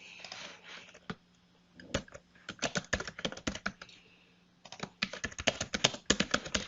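Typing on a computer keyboard, with rapid bursts of close, crisp key clicks separated by a short pause, heard alone.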